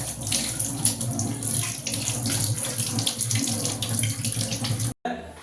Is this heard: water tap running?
yes